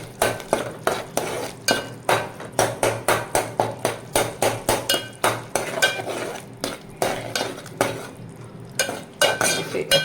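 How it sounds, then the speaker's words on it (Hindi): Masala fries in oil in a pan while a spoon stirs it in quick, regular scraping strokes over a soft, steady sizzle, close and fairly loud. "इसे अच्छी तरह हम भूनेंगे"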